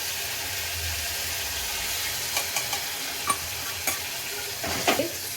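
Gravy is stirred into cooking chicken in a pan over a low, steady sizzle, with a few soft clicks of a spoon against the pot toward the end, close and fairly quiet, with no talking.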